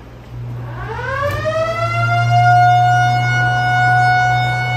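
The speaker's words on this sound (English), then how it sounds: "it sounds more like a tornado alarm" A building's burglar alarm wails like a tornado siren, rising in pitch from a low start and then holding a loud, steady, harmonic-rich tone over a low hum.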